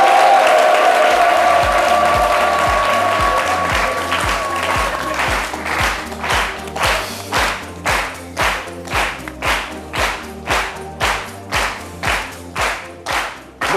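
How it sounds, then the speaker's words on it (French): An audience welcoming the RTI Digital director starts with broad, loud applause that gradually settles into a steady rhythmic unison clap, one beat roughly every half second, with music faintly beneath at the start. "Mesdames et messieurs, des applaudissements pour recevoir ici le directeur RTI Digital"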